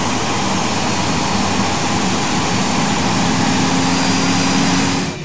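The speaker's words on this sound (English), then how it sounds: "Starting engine 2. All right, engine 2 starting first." Jet engine spooling up during the start of engine 2 on an Airbus A320 in X-Plane 10, a steady loud roar with a rising whine and low rumble, holding constant before dropping off at the end.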